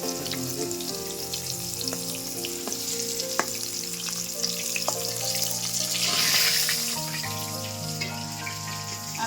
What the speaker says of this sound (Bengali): পটলগুলো ভাজা হয়ে গেছে পটলগুলো আমি এবার তুলে নেব